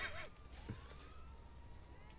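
A faulty, sputtering police siren wails faintly in GTA Online, a thin rising and falling tone over engine rumble, with a brief louder squeal at the very start.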